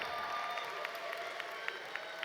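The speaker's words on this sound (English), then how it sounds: "Let's give them a bigger round of applause than that." Commencement ceremony audience applauding, a faint, distant wash of steady clapping with a few sharper individual claps standing out.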